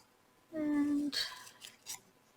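Scissors fussy-cut fabric scraps up close, with a sustained metallic ringing followed by a couple of quick, crisp snips.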